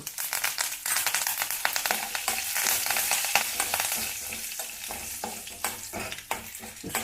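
Oil sizzles and crackles as dried red chillies and curry leaves fry for a ridge gourd chutney tempering, with scraping stirs and sharp pops throughout, close and fairly loud.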